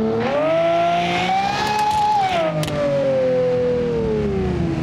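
A car engine in the driving game BeamNG.Drive revs steadily upward, dips briefly as a gear shifts, then holds a strong, continuous droning tone, loud and close with no talk over it.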